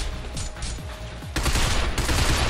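Rapid automatic gunfire rattles in a dense, continuous burst while shooting enemies in the video game Binary Domain, loud and close, with a brief break before an even heavier volley.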